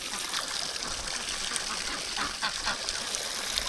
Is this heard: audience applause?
no